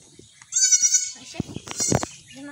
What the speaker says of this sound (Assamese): ছাগলী পোৱালি দুটা আছে